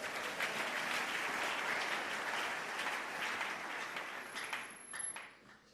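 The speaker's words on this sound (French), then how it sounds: "Acclamons Jésus" A church congregation breaks into sustained, dense applause during a family worship service, steady and loud for several seconds before tapering off toward the end.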